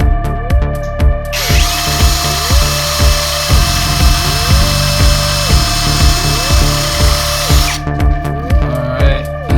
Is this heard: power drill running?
yes